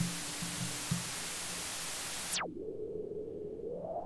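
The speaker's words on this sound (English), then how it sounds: "so I can go choose white noise" Steady broadband hiss of synthesized white noise in a techno build-up that sweeps down sharply in a filtered drop, leaving a low rumbling tail.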